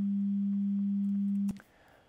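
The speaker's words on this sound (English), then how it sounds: "and sig 1 is a sine wave" A steady pure sine tone holds for about a second and a half, then cuts off abruptly, leaving faint hiss.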